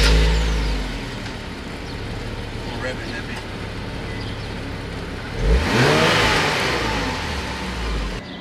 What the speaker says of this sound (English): the stock exhaust sound on this car